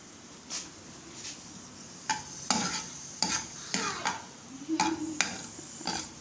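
Finely chopped onion and two cloves of garlic fry in hot oil for sabudana khichdi, with soft sizzling and repeated sharp scraping stirs against the pan. Nobody talks.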